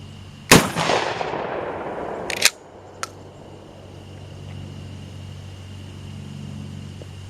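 Mossberg 500 pump shotgun firing a Federal .50 caliber hollow point slug outdoors at a pumpkin about 60 yards away: one sharp loud blast with a long rolling echo, then a pump-action clack.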